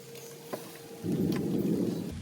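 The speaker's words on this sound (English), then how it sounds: "I don't know if you heard the thunder and could see the lightning" A low rumble of thunder swells and holds over steady rain noise outdoors, with a single sharp tap before it, heard alone without speech.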